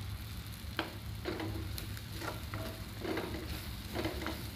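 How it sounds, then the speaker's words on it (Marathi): Gram flour lightly roasting in a pan gives a soft, dry scraping and stirring with a faint sizzle underneath, with repeated spatula strokes at a steady rhythm and no talking. "बेसन आपण भाजून घ्यायचं हलकं, जास्त काही भाजण्याची गरज नाही"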